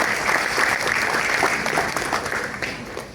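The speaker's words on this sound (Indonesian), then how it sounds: "jadi tepuk tangan buat Prudential ya." A crowd claps steadily in dense, sustained applause that slowly tapers off near the end.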